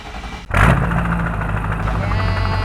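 A Cummins turbo diesel engine in a Chevrolet C10 cranks and fires up with a sudden loud burst, then settles into a steady, rumbling idle nearby.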